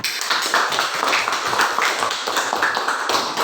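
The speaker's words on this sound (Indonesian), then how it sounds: "kelompok 3 berikan dulu tepuk tangan" Classroom group clapping during a teaching session, a short run of dense, close hand claps at steady strength, with no talk over it.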